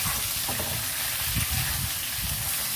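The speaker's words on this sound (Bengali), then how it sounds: "এবার ভালো করে এটাকে নাড়াচাড়া করে নেব।" Nota greens and vegetables fry in a village kitchen pan with a steady sizzling hiss, while soft stirring scrapes and shifts rise and fall throughout.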